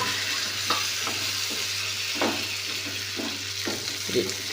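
Boiled cauliflower pieces stirred in a pan for tomato cauliflower curry, with regular scraping strokes of a spoon over a continuous close sizzle.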